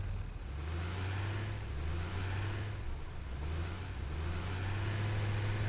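Truck driving in Satisfactory: a steady, fairly quiet engine drone that swells and dips in pitch as the vehicle speeds up and slows, heard alone without talk.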